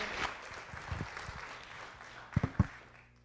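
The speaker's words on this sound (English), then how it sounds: "And another big round of applause, please." Applause at a city council meeting, a sparse smattering of claps fading out, with a few louder, closer claps near the end.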